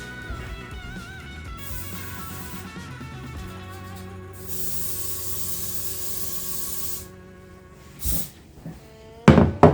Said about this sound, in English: I know the spray cans like these are bad for you, but I'm using it anyway.